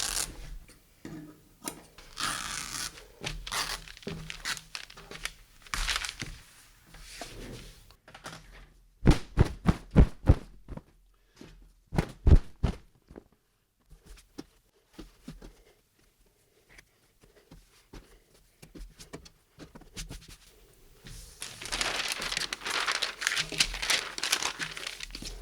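Muslin fabric torn by hand after a snip, giving bursts of ripping and crinkling with small rustles and handling sounds between them, fairly close and without talk.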